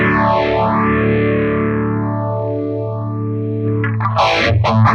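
Electric guitar through the effect loop of a Yerasov Vital Higain VH-5 preamp, one sustained high-gain chord swept by a deep chorus-like modulation, then a burst of fast distorted picking at the end.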